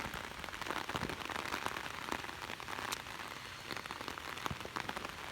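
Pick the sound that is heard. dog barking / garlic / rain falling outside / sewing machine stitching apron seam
rain falling outside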